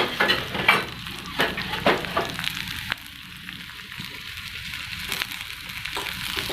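Sliced onions frying in oil in a pan for a chicken curry, a steady crackling sizzle with a few stirring scrapes near the start, close and moderately quiet.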